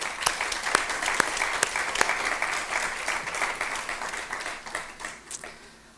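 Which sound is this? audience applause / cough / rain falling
audience applause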